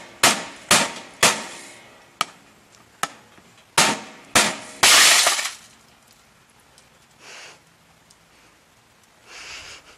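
A hammer strikes tempered glass in sharp, loud, evenly spaced blows, about nine hits, then a sudden shattering crash and faint trickling debris.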